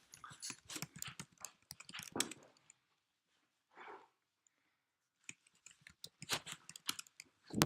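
Fingers tap on a computer keyboard in quick, close bursts of clicking keystrokes, separated by a short pause, with no talking.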